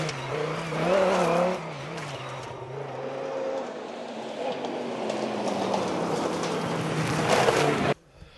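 A 5-litre BMW V10 cross-country rally car drives at a British championship meeting. Its loud engine drones and shifts pitch for about eight seconds, then cuts off abruptly.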